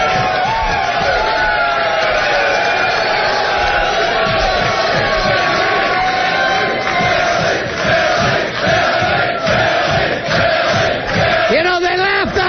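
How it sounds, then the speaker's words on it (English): A loud crowd roars and cheers at a fight night event, a dense, continuous wall of yelling and whooping close up that holds for the full stretch with shifting swells. "listen to that crowd, Billy."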